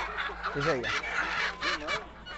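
Chickens cluck and call at a busy livestock market, with a few short squawks rising above constant crowd noise while a nearby voice speaks.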